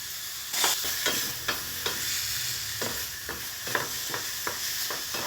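Tomatoes stirred into frying vegetables, including chopped chili peppers, for a vegetable burger mix: a steady close sizzle with a dozen or so scraping stirs at irregular intervals, no voices.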